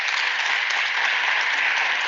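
Audience at the KwaZulu-Natal Legislature's 2023 Sex Work Symposium applauds in a steady, dense wash of clapping that holds at one level throughout, with no talk over it.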